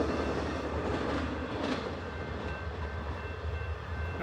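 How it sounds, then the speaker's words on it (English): The westbound Amtrak Sunset Limited passes at East Bernard, a steady rumbling roar of the locomotive and rolling cars with faint rail clatter and a thin high squeal, continuous and fairly close throughout. "Got the Lifesaving Locomotive scalding."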